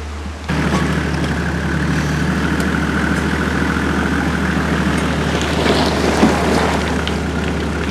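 A 4WD crawls slowly through a hard, rocky water crossing, with a steady low engine idle and a continuous hiss of splashing and churning water around the vehicle, with no talk.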